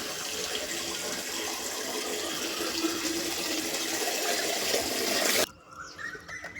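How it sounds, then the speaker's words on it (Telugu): Water poured from a container onto garden plants in the early morning, a steady broad splashing rush running without a break and stopping abruptly near the end, with faint ambient sounds afterward. "చెట్లకు అందుకు నీళ్ళు అందుకు పోస్తున్నానండి"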